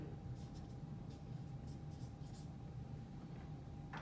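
A marker scrapes across a board in a biology lecture, giving faint intermittent squeaks and strokes over a quiet room hum.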